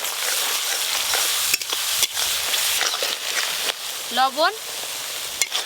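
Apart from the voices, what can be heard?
spices frying and being stirred in a pan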